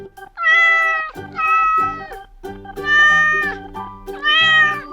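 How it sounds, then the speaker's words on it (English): A small cat meows four times in a row, each call a clear, drawn-out, close and fairly loud mew with short pauses between, alone without talk. "And it's a small cat."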